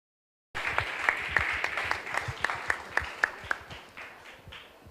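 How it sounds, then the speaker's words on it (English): An audience at an economic summit applauds, a burst of many hands clapping that starts abruptly and carries on steadily for several seconds before thinning out, with a few distinct sharp claps standing out. "Guys, let's have one last round of applause for ma'am."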